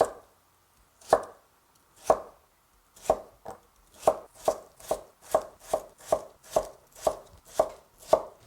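Knife chopping kohlrabi into 1 cm cubes for vegan kkakdugi, sharp close knocks on a cutting board, sparse at first then speeding into a steady, even rhythm of about two chops per second, with no talking.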